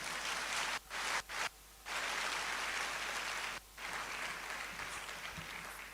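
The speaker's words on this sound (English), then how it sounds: "the applause does not reflect the hard work" Audience clapping fills a physician assistants' induction ceremony hall, steady and dense, broken by a few brief pauses before resuming.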